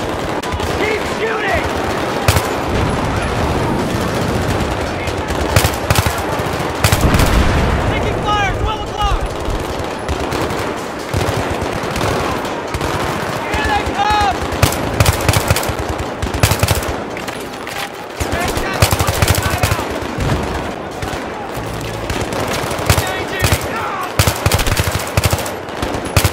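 Sustained machine-gun and rifle fire in the video game Battlefield 3, loud and near, continuous rapid bursts with scattered explosions throughout, voices shouting under the combat.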